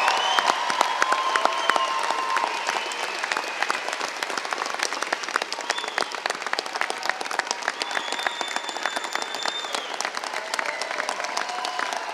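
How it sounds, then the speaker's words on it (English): Sustained applause from a large convocation audience for Red River College certificate, diploma and degree graduates at the Spring 2017 ceremony, steady dense clapping with some crowd noise and a few cheers throughout. "Let's give them a round of applause."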